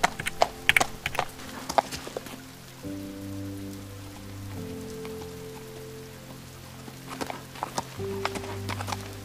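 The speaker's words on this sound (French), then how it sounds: "Je mets ensuite l'autre moitié des chevaux au pré." Horses clip-clop as they walk out to pasture in the Star Stable Online game, hooves tapping in scattered clusters at the start and end over steady patter of rain on surfaces, with a calm musical bed underneath.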